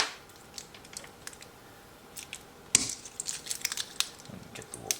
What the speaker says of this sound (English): I'll just cut this little pack out.